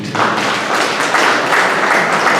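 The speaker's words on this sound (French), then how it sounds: "Un applaudissement pour ceux merci." Dense, steady audience applause fills a pet show presentation in Mauritius, loud and continuous throughout with no pauses.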